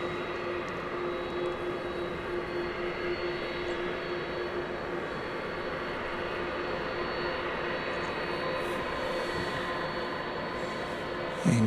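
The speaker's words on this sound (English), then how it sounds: "There's a 767 now backing up, getting ready to take off." Boeing 767 jet airliner taxiing at DFW Airport at night: a steady, distant jet engine whine and hum holds throughout, broad and even, with no talking over it.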